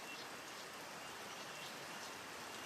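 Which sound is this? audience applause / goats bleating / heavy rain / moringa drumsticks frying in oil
heavy rain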